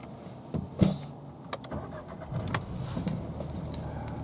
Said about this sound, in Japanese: この鍵でエンジンかけていきますね。